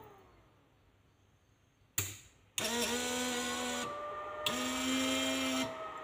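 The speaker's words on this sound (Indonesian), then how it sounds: "Nah, itu servo checknya teman-teman." Servo actuator on the V-boost system of a Yamaha VMax 1200cc motorcycle runs in two bursts of a steady, close electric whine with a buzzing hum beneath, separated by a short pause, after a quiet start and a brief click.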